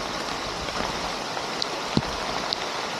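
Heavy rain in a village with floodwater flowing along the road, a steady rushing wash of water and rain noise with a few sharp drips or splashes, no talking.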